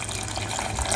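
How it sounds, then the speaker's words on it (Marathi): Hot water poured into a curry in a new kadhai, a steady one-second liquid pour with a soft continuous splash, fairly close, no talking. "यामध्ये आता आपल्याला गरम पाणी ॲड करायचं आहे."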